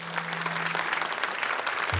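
Concert audience at a Turkish folk music performance applauds, a brief burst of dense, even clapping filling the whole moment at moderate volume.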